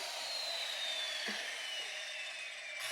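A power saw whines steadily through wood during subfloor installation, a continuous high-pitched cutting noise, close and loud throughout.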